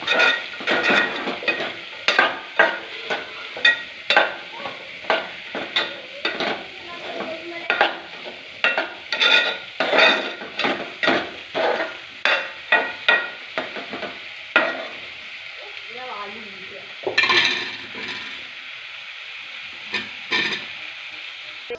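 Beans upperi being stirred in a pan with salt, a spoon or spatula scraping in quick repeated strokes over a steady sizzle, near and fairly loud, with brief pauses between bursts of stirring.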